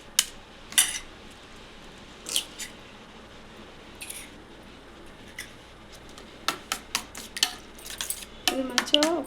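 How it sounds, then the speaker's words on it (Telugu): Eggs with chili powder are beaten in a bowl for egg dosa: irregular clinks and taps of a utensil against the bowl, sparse at first, then quicker and louder toward the end, close by and without talk. "ఇది మంచిగా ఒకసారి ఇట్లా అంతా గిన్నె కొట్టుకోవాలి, కలుపుకోవాలి"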